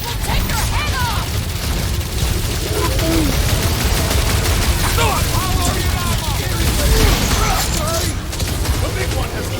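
Nova Corps cannons in Marvel's Guardians of the Galaxy video game fire in a dense, continuous barrage of heavy blasts and booms, loud throughout, with characters shouting over the combat.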